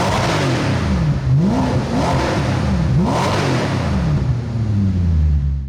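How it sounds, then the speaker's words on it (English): A 2002 Maserati Coupe with a naturally aspirated V8 revs repeatedly, the engine note climbing and falling in several sharp blips before settling into a strong, close idle drone. "take a listen to the Maserati Coupe and some revs"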